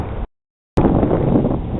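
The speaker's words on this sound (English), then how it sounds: "it's very windy out here" Loud, gusty wind buffeting the microphone outdoors among empty buildings in Willow River, Minnesota, with a rough low rumble, briefly cutting out to silence before the blustering resumes.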